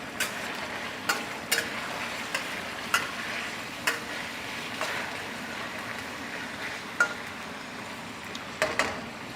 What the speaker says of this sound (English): So just brown this off in here.